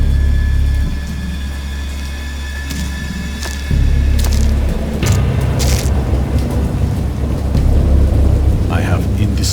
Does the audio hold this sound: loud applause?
no